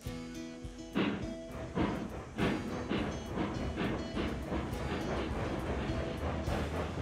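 A steam locomotive in the Railroads Online train game runs on track with rhythmic chuffing bursts and clanking metallic knocks, fairly faint, settling into a continuous rolling rumble.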